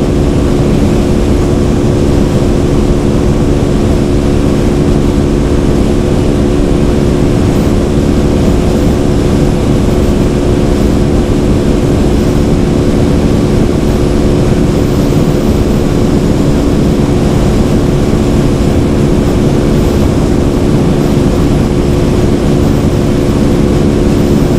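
A TVS Apache 200 motorcycle held at full throttle in fifth gear at high speed, a loud, steady engine drone mixed with heavy wind rush that runs unbroken from start to finish.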